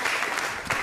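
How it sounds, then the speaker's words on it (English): Studio audience applause on a televised political debate programme, a short burst of broadband clapping that swells briefly near the end. "Applause for the gentleman."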